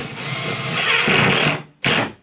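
A power driver whines at high speed as it drives a T25 Torx construction screw, rising in pitch over about a second and a half, then stopping, followed by a short second burst, close and loud.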